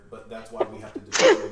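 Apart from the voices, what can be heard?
sneeze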